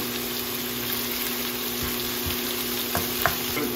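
Chicken pieces for Korean braised jjimdak fry undisturbed in a pan with a constant close hiss and bubbling. Only a couple of small pops or taps break the even sizzle near the end.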